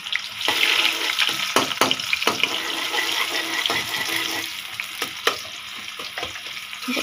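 Onions dropped into very hot oil hiss and sizzle in a steady wash of frying noise, with sharp crackles and pops scattered throughout at close range.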